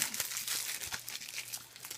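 Plastic packaging on The Meg 4K Blu-ray is peeled and crinkled, making a steady, close rustle with small crackling bursts throughout.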